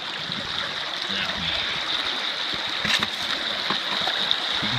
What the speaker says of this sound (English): the stream that we're on is a little backwater creek